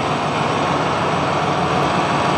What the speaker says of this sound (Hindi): अभी ट्रैक्टर स्टार्ट है, और जो नॉर्मली स्टार्टिंग पोजीशन में होता है वो ट्रैक्टर खड़ा है